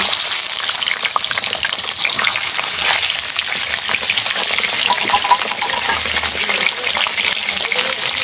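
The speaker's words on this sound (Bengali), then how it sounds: "এবার আমি চিকেনগুলো দিয়ে দেব" Chicken pieces hit hot spiced oil for a mango chicken dish, frying with a loud, dense, continuous sizzle and crackle, with occasional stirring sounds.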